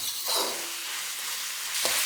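Chicken pieces with onion and carrot are stir-fried over a high flame for a broccoli chicken stir fry, making a continuous, moderately quiet sizzle with a few stirring scrapes near the start and end.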